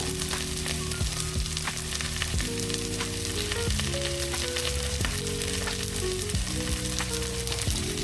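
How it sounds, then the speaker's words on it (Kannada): Lemon chicken frying in a pan, a constant loud sizzle with sharp crackles, close by, under steady background music and no talking. "ಚೆನ್ನಾಗಿ ಫ್ರೈ ಆಗಬೇಕಿದು"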